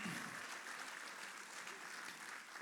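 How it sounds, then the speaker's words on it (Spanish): Church congregation clapping together after a call to applaud, a steady diffuse patter of many hands filling the room at moderate level, with no talk over it. "Un aplauso a lo que Dios está haciendo"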